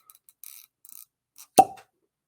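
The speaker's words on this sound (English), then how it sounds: "So quiet on the set for the cork pop, Keith." A cork pops from a Russell's Reserve barrel-pick bourbon bottle: a single crisp, close pop after a moment of faint handling rustle, trailing off quickly in a quiet room.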